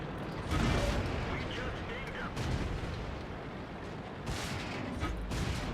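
Tank cannon fire in the World of Tanks video game, with heavy low booms and rumbling blasts over a dense, continuous battle noise; a few stronger shots stand out amid the din.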